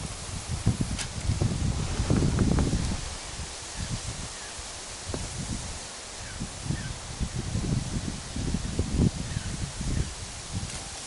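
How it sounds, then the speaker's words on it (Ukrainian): Gusts of wind rush through leaves by a ditch in November in swelling waves, with rustling and buffeting close to the microphone. "Ух, вітер як скидає."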